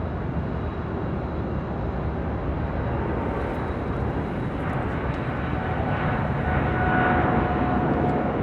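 A heavy Boeing Dreamliner airliner on short final to runway 24 right at LAX produces a loud, steady jet engine roar that holds constant and builds slightly toward the end, with no talk.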